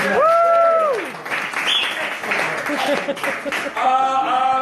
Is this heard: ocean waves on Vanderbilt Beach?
no